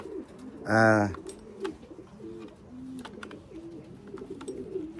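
A racing pigeon coos softly and repeatedly at the loft trap just after landing from a race. A brief, louder tonal call sounds near the start.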